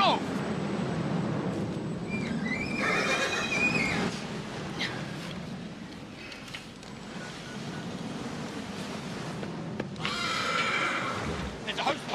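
A horse whinnies and snorts near a burning plane crash in the Yorkshire countryside, its calls rising in bursts over a constant roaring background while people shout urgently nearby.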